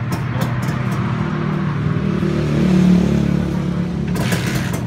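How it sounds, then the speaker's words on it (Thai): Vehicle engine that has sat parked for about a week, running at a steady low rumble with mechanical clatter, swelling briefly in a short rev before settling, close by. "ขอให้แกสตาร์ทให้ทีเดียวติดเลยครับ"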